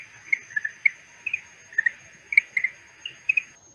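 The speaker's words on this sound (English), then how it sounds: "This is a little frog that's from the Bahamas, and it makes a very pretty noise," A small greenhouse frog from the Bahamas gives a run of quick, bright chirping notes like dripping water, about a dozen clicks in irregular rhythm, clear and close against a quiet background.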